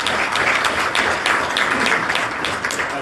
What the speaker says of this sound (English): She's the only one I want you to applaud for right now